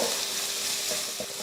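Onions, curry leaves and ginger garlic sautéing in a hot pan: a dense, steady sizzle close by, with a couple of soft stirring scrapes near the end.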